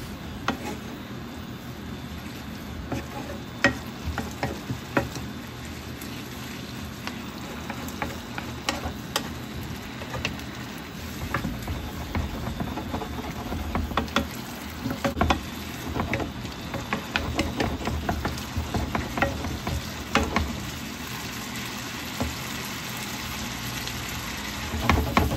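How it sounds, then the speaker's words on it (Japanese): A stir-fry finishing over high heat with sesame oil drizzled in sizzles steadily, while a utensil repeatedly scrapes and taps the pan in an uneven rhythm, close and fairly loud. "最後にごま油を回し入れ、 強火で仕上げていきます。"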